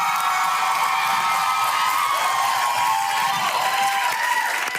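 A live studio audience at a dating game show gives sustained applause mixed with cheering and scattered shouts, a thick, loud roar of clapping that holds steady for several seconds.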